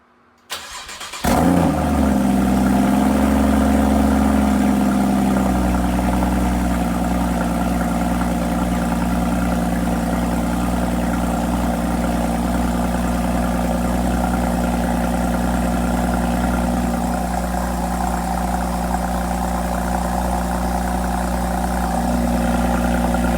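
A Porsche 981 Cayman engine with a valved exhaust cranks and fires, then settles into a steady, loud idle that drones on without a break.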